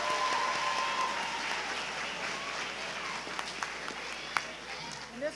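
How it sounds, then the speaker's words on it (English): An awards ceremony audience at a history competition applauds the participating schools, broad sustained clapping from a large room that thins slightly toward the end, with faint voices underneath. "So everyone, a round of applause for all the schools."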